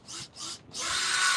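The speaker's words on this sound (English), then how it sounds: "Oh, you guys are pre-drilling?" Power drill boring into wood while building a chicken coop, heard as two short whirring bursts and then a longer sustained run, fairly close and with no talking.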